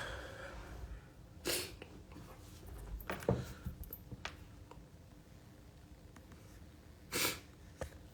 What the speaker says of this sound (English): if y'all hear me sniffing